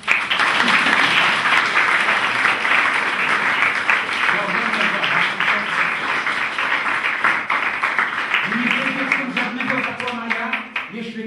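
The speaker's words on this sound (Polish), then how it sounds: "A teraz chłopcy zasługują na ogromne brawa" An audience applauds a group of schoolboys after a staged school performance, with steady, dense clapping throughout and voices rising over it toward the end.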